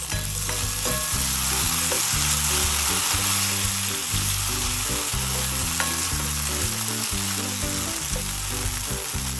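Onions sauté in a pan for Ilocano poqui-poqui, a dense continuous sizzle and crackle of frying that holds steady and close throughout, with no talking.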